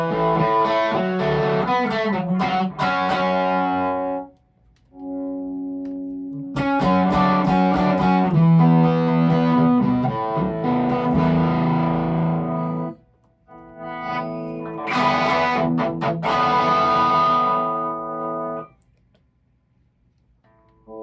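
Distorted electric guitar through a Mesa Mark IIB+ loop mod amp, set up to show off its mids. Loud chords and riffs play in several phrases separated by short pauses, and the last one trails into silence.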